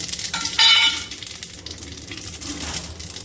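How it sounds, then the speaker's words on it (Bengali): Five-spice seeds and bay leaf hit hot leftover fish-frying oil in a pan, giving a sharp burst of sizzling crackle that settles into a steady, softer fizz. "এই তেলে ফোড়ন দিয়ে দেবো, 5 ফোড়ন আর তেজপাতা"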